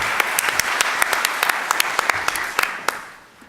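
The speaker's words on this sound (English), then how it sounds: "Let's give him a round of applause." A breakfast networking audience of HR professionals claps for a speaker being introduced, a moderate round of close, sharp individual claps that fades out after about three seconds.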